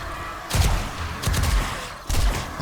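Three silenced pistol shots fire one after another in the 7 Days to Die video game (Alpha 19). Each is a sharp, close, punchy report that trails off briefly, and the shots come about three-quarters of a second apart.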